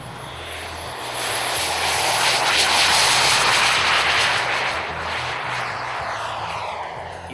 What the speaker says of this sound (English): the jet is the ultimate scale, because it sounds the same and it smells the same as a full-size